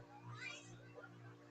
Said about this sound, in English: you'll hear the meow of a kitty